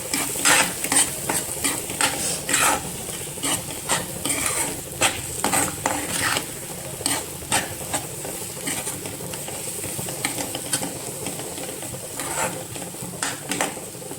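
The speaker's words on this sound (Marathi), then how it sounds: "इथे मी तीन अंडे घालून घेतलेले आहेत आणि व्यवस्थित मिक्स करून घेतलेले आहेत" Three beaten eggs being stirred and scrambled in a pan for egg bhurji, repeated rhythmic scraping and clinking of a spatula against metal over a continuous close sizzle, with no voices.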